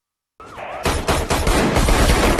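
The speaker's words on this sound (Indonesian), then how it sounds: "Dia lantas membantu para polisi baku tembak dengan anak buah pelaya." Rapid gunfire from a film shootout between police and gang members, loud close bursts of shots following a brief lower sound at the start.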